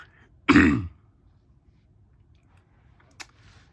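A single loud, rough throat clearing near the mic, followed by quiet and a faint brief click later.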